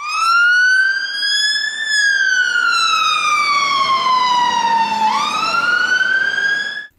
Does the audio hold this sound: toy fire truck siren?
yes